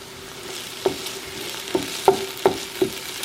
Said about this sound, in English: So I'll saute the onion for a few minutes until they are a bit brown.